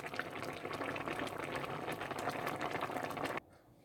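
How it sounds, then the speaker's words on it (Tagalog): Bamboo shoots (labong) boil in a pot of water, a dense, close bubbling and rolling simmer that runs steadily before cutting off abruptly near the end. "kumulo na yung ating labong"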